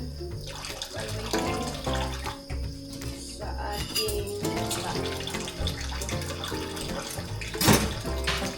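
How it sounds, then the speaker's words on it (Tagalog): Water runs steadily from a tap with clinking and splashing of dishes being washed, a voice speaking briefly in Tagalog over it. "Hugas muna ng pinggan"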